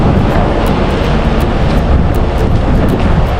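Strong wind roars steadily across the microphone on a bus ride, a loud constant rush with faint rhythmic ticking underneath.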